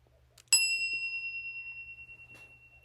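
A bell is struck once and rings out with a bright, sustained tone that decays slowly over a couple of seconds. A faint tap is heard before the strike, and the setting is quiet.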